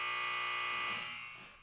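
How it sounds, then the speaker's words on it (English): A harsh electronic buzzer sound effect, one sustained loud buzz that holds steady before fading slightly at the end. "with a buzzer, with a buzzer, with a buzzer."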